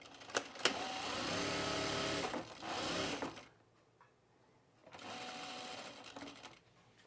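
A sewing machine stitches fabric pieces for a Sylvan jacket in two steady whirring runs, about three seconds and then two seconds long, separated by a quiet pause, with a few clicks at the start.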